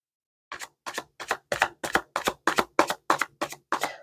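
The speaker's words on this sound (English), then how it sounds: "See if we can do some more shuffling" A quick run of crisp, papery riffles, about a dozen evenly spaced bursts close up, as tarot cards are shuffled repeatedly with no talking.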